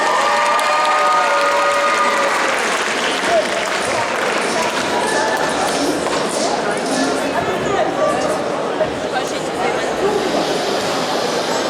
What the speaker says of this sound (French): Applaudissez fort Ozibis dans la peau de Kiffré de l'atelier des sorciers